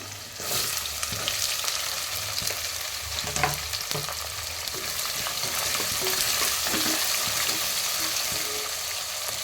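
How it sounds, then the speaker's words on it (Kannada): Chopped onions fry in oil with salt for a North Karnataka broken-rice upma, giving a steady, close crackling sizzle throughout with occasional stirring scrapes and no talk. "ಉಳ್ಳಾಗಡ್ಡಿ ಎಣ್ಣೆ ಒಳಗೆ ಚೆನ್ನಾಗಿ ಫ್ರೈ ಆಗಲಿ, ಬೇಗ ಫ್ರೈ ಆಗಲಿ ಅಂತ ಉಪ್ಪು ಹಾಕ್ತೀನಿ."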